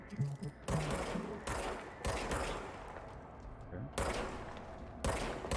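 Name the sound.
gunfire in the video game Control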